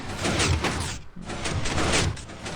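Hundreds of Minecraft 1.7.3 pistons drive a seamless 5x5 piston door open in a video game, a loud, thick stream of overlapping mechanical shunts with one brief dip midway before the clatter resumes.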